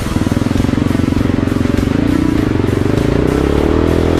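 A big motorcycle rides along with a loud, steady engine drone close by, a continuous rumbling hum with a faint rhythmic pulse and no voices.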